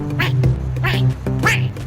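A video-game duck in a Dreams creation quacks three times in a steady rhythm, loud and close, over a humming background tone.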